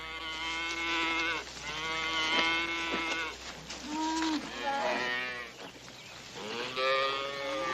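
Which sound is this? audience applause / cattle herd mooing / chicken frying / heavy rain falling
cattle herd mooing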